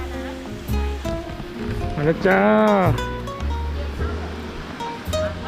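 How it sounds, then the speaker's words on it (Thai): Strong water at Jokkradin Waterfall, Kanchanaburi, Thailand, roars steadily in the background while a person speaks briefly over it. "น้ำตกจักกระดิ่ง โอ้ น้ำแรงนู่น"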